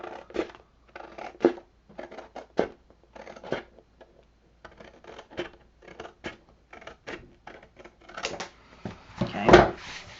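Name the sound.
scissors cutting paper along score line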